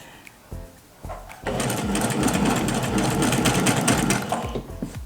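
A sewing machine runs a steady burst of rapid stitching on patchwork fabric, done with the foundation piecing technique. It starts after a couple of brief clicks, is close and loud, and carries on continuously for several seconds.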